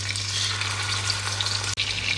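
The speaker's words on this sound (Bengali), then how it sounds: "এখানে মাছ ভাজি করে একটুখানি দো পেঁয়াজা করব" Turmeric-and-salt marinated fish frying in a pan: a steady, close, dense sizzle that crackles continuously, with one brief dropout near the end.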